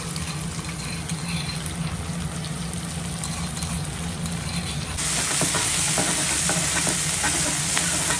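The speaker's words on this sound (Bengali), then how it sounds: "চারটে কাঁচা লঙ্কা থেতো করা এর মধ্যে দিয়ে দেবো।" Crushed green chillies drop into hot oil for a Bengali hilsa curry with elephant foot yam, and a steady sizzle jumps louder and brighter about halfway through as frying intensifies, with stirring underneath.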